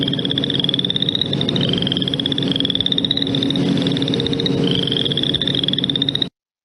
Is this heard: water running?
no